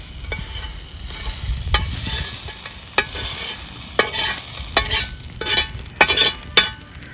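Potatoes are stir-fried in oil in a pan, with a bright sizzle beneath a series of sharp spatula scrapes and taps that come faster toward the end.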